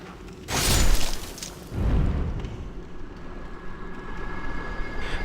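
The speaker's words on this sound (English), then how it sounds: "Plus with these explosions," Enemy explosions in Demon's Souls, two deep booming bursts about a second apart, followed by a lingering rumble and a thin ringing tone.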